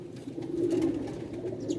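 White-tailed Sialkoti pigeons cooing together, a soft continuous low warbling coo from several birds close by, with no voices.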